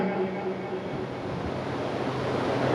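An audience at a Delhi kavi sammelan poetry recital claps in sustained, dense applause: an even, crackling wash of many hands that continues without a break.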